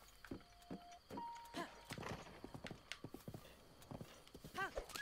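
Horse hooves clip-clop in a quick, uneven rhythm close by in the video game Breath of the Wild, with a short whinny near the end and a voice talking in between.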